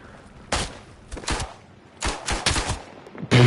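Gunfire in the WW1 shooter game Isonzo, with several separate volleys of sharp rifle shots in quick bursts of two or three cracks, fairly close and loud, with no talk over them.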